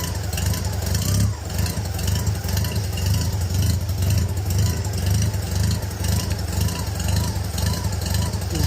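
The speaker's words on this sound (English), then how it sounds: "I'm going to bring up the idle a little bit." A warm engine idling with its idle raised after an idle jet adjustment: a constant loud rumble with a faint, gently wavering surge, close and continuous throughout.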